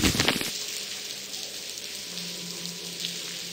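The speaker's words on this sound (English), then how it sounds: "It's pouring outside." Rain pours outside in the video game The Blackwell, a steady, close hiss of falling water with a brief louder burst at the start before settling into an even patter.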